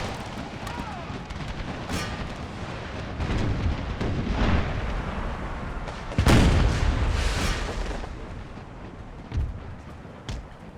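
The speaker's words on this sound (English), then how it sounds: "Guess it's time for canister shots." Cannons firing canister shot in Empire: Total War boom and crackle amid battle noise, with several heavy blasts rising out of a steady din of gunfire while a voice talks over the action.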